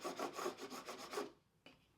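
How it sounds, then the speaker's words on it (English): A plastic scraper rubs adhesive vinyl down onto the plastic case of a sewing machine, making a close, quiet rasping scrape of a few quick strokes that stops short, followed by one faint tap. "Use the scraper to ensure the vinyl attaches to the plastic."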